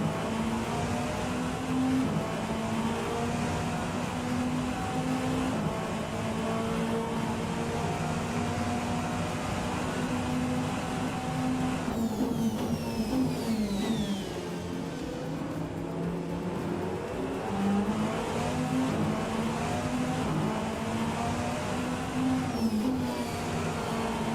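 A BMW race car engine in the Rennsport racing game holds a steady, loud drone throughout, with a higher whine sweeping past midway as another car closes in from behind.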